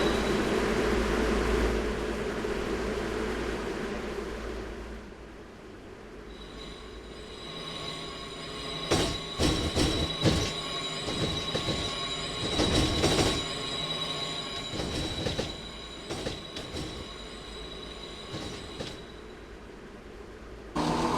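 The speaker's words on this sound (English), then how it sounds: "let's listen to the sounds of the Class 171" Simulated Class 171 diesel multiple unit from the British Railway video game, running along the track. Rail noise rumbles steadily while loud wheel squeals and clattering bursts dominate the middle stretch, with a sustained high whine running underneath.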